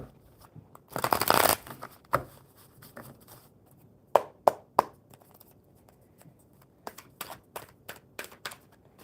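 Tarot cards shuffled in a quick riffle burst, followed by scattered soft taps and slaps as cards are laid down, close and fairly quiet.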